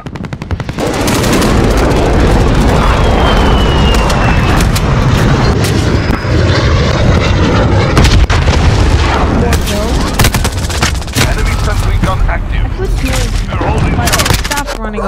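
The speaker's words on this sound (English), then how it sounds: "Enemy gunship inbound, take cover." Enemy gunship in Modern Warfare flying overhead and firing, with dense, continuous loud bursts of automatic gunfire and heavy booms filling the scene.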